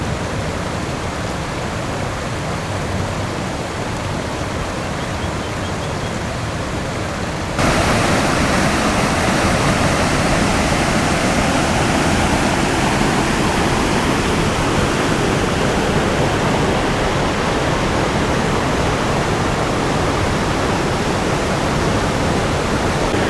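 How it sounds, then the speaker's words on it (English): The Linville River rushes in a continuous broadband roar like a waterfall or rapids, growing abruptly louder and closer partway through and then holding steady, with no voices. "Destination, Linville River."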